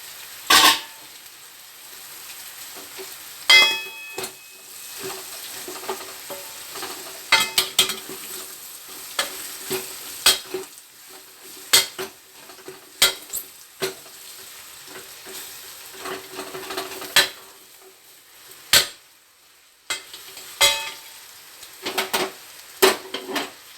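Bottle gourd pieces hit a hot pan of oil and garlic in a home kitchen, sizzling and crackling steadily while a spoon scrapes and stirs them in repeated sharp clinks, close and moderately loud with no talking.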